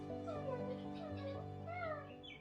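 A cat meows repeatedly in a series of drawn-out, wavering cries, faint and close together, with a steady background tone beneath.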